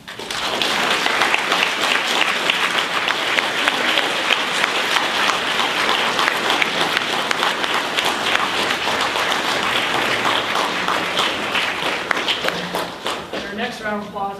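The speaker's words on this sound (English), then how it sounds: "let's give our panelists a round of applause." A convention panel audience gives a sustained round of applause for the panelists, a dense, even wash of many hands clapping that holds steady for most of its length before thinning near the end.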